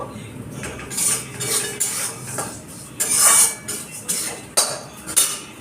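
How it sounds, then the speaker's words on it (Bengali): Fried flattened rice seasoned with a little black pepper being scooped from a pan into a dish: repeated scraping and metal clinks of a spoon against the pan, irregular knocks close by with no talking. "চিড়ে ভাজাটা হয়ে গেছে আমি এবার পাত্রে তুলে নেবো"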